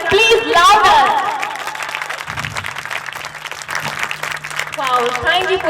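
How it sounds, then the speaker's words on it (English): An audience at an English-language school event applauds for a few seconds, dense clapping from a crowd while a speaker's voice carries over the top at the start and end. "Please give a big round of applause for English zone Makrana and the students and the heritage of"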